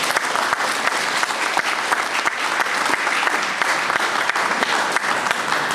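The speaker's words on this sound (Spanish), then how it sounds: "para quien pido un fuerte aplauso" Sustained applause from a lecture audience at a constitutional law talk, dense steady clapping filling the room for several seconds with no speech over it.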